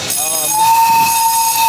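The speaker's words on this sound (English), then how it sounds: "Oh yeah, that's like a train." A train passes near a beach, giving a loud, steady, sustained horn-like tone that holds from under a second in to the end, after a brief voice at the start.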